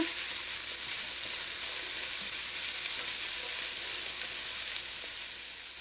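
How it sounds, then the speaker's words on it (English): Vegetables saute in a hot pan with a steady, bright hiss of sizzling oil, close and continuous, easing slightly toward the end, with no voices over it. "So I'm just going to let this saute in here for about a minute."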